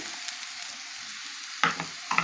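Cabbage with hand-pounded fresh coconut stir-fries quietly in a pan, a soft sizzle broken by two sharper scraping stirs near the end.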